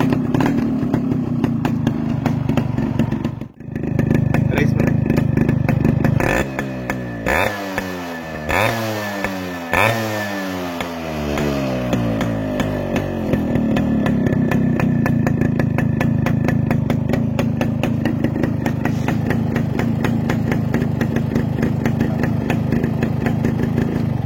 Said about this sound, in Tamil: இப்போ இந்த பைக்கோட இன்ஜின் வீடியோ பார்த்துட்டு